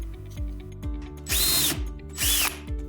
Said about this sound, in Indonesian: Bor lubang.